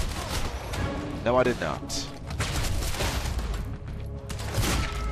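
Gunshots in the action game Quantum Break: muffled shots and booms come in a dense, busy mix while someone talks over the gameplay.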